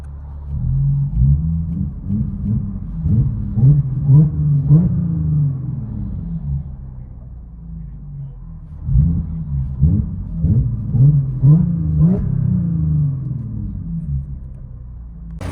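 A 2016 Audi A7 3.0L supercharged V6 with Borla ProXS exhaust and muffler delete drones from inside the cabin, swelling twice in rising revs with a throaty low rumble, steady and close.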